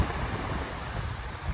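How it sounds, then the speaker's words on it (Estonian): Strong wind buffeting the microphone at a sea shore, with waves and surf rumbling underneath: a steady, loud, broadband roar that fills the whole clip without letting up. "ikka väga tuuline on"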